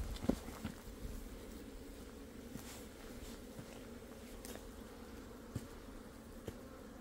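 Giant hornets and honeybees buzz around a beehive outdoors, a faint continuous droning hum with occasional soft knocks and brief louder wingbeats as insects pass near.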